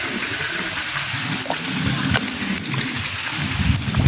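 Water pours and fills a flooded onion field with a steady rushing, gurgling wash that holds throughout at close range.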